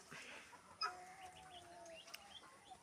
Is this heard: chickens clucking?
yes